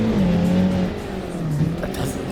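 Modded BMW car engine in the driving game BeamNG, a steady mid-pitched drone that climbs in tone as it accelerates, heard under someone talking.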